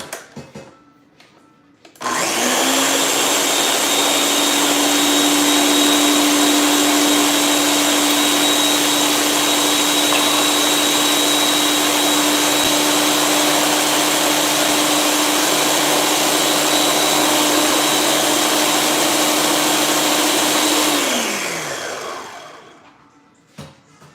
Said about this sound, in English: we're gonna blend it up